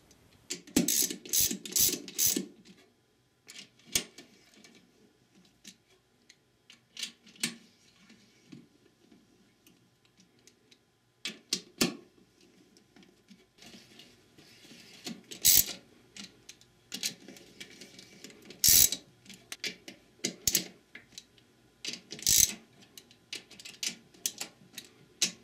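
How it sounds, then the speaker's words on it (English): A hand ratchet with a 10mm socket and extension tightens transmission pump bolts on a Ford E4OD/4R100 in a crisscross pattern, giving close bursts of quick clicking separated by pauses, with occasional sharper metallic clinks. "Use a 10mm socket, extension, and ratchet to tighten the bolts in a crisscross pattern"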